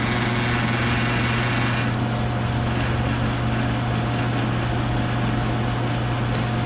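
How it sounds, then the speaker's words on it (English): A steady grinding drone of a hole saw cutting aluminum, with a constant low hum and gritty texture throughout, close by and without speech. "we're just taking a hole saw, we're going to drill a hole there"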